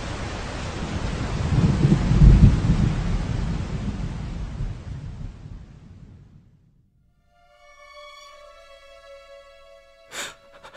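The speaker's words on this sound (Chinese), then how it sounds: "他看见外面下着瓢泼大雨" A heavy downpour of rain with rumbling thunder, used as a drama sound effect, roars loudly for several seconds and then fades out, followed by a brief ringing tone and a sharp crack near the end.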